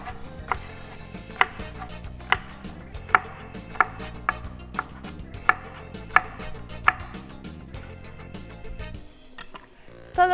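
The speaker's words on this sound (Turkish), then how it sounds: "Şu incelikte doğrayacağım." Steady knife chops on a cutting board as stacked salad vegetables are thinly sliced for an artichoke salad, a run of sharp evenly spaced taps over faint background noise.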